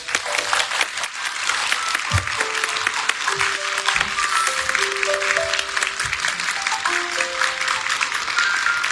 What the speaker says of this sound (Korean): 여러분 박수와 환호 부탁드리겠습니다